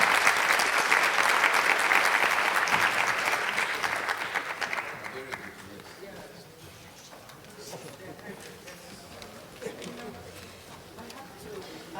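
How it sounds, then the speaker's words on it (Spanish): Round of applause from a forum audience for panelists, loud dense clapping at first that gradually thins and fades, with some talk underneath as it dies down. "Así que terminemos con una ronda de aplausos para estos panelistas."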